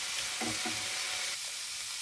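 Red amaranth greens fry in a pan, a continuous hissing sizzle with a few soft stirring scrapes early on, close and steady throughout.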